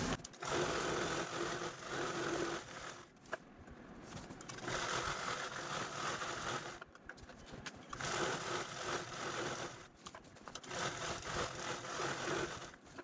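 A sewing machine stitches lace onto reused sari fabric, running in steady whirring bursts of a few seconds each, separated by brief pauses, close and fairly quiet with no talking.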